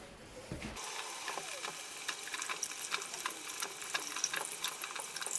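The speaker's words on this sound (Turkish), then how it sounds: "Şimdi domatesleri yıkayıp kesmeye başlayalım." Tap water running over tomatoes in a kitchen sink, a steady close splash with small clicks and knocks as the tomatoes are handled and rinsed.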